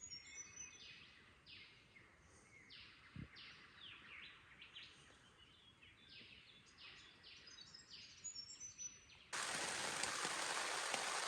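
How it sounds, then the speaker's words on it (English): Steady rain hisses loudly for a couple of seconds, coming in abruptly after a stretch of birdsong and twittering. "it's absolutely pissing with rain"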